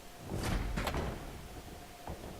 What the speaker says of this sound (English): Like, it's just closing the doors.